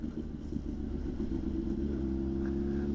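Motorcycle engine running on a road trip through Bulgaria toward Melnik, a steady close low rumble with an even, unbroken drone throughout.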